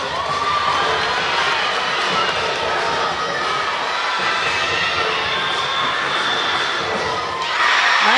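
A crowd at a college gymnastics meet cheers and shouts steadily throughout, loud and sustained, with a fresh swell of applause right at the end.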